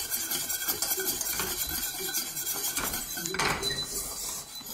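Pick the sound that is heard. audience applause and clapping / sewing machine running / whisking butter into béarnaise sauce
whisking butter into béarnaise sauce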